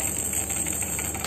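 Steady, dense rattling like a toy rattle shaken continuously, a busy granular clatter throughout the short clip.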